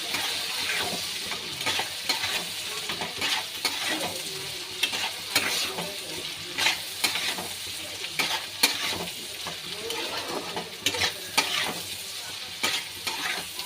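Ginger garlic paste sizzles as it is stir-fried in a pan, a constant close hiss broken by repeated scraping strokes of a spoon at an uneven pace.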